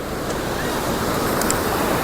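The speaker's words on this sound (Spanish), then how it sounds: "Miren, por favor, allá lo que hay, una cascada." A waterfall on Madeira island makes a steady, loud, broadband rush of falling water that fills the scene without pause, with wind noise mixed in.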